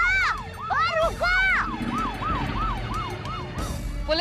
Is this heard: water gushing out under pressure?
no